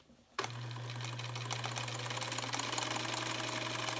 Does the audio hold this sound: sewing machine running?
yes